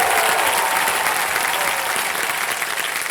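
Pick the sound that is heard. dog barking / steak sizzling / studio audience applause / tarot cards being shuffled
studio audience applause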